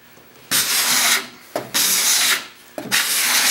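A large putty knife scrapes across white oak in three long, steady strokes, each a dry, hissing rasp with brief pauses between, close and alone.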